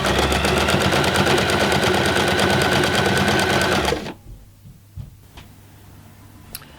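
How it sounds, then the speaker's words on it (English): A sewing machine stitches the sides of a fabric tote bag with a steady, loud, fast whirring rattle close by, stopping abruptly after about four seconds and leaving a few faint handling clicks. "Go forwards a few stitches, backwards a few stitches, and then sew the 3 sides, taking the pins out as I go."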